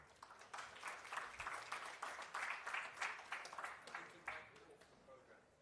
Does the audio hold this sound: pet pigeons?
no